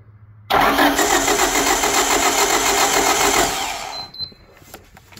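A car engine being cranked by the starter, a dense steady whirring grind that runs about three seconds and then cuts off, with a brief metallic tick afterward; the engine does not catch.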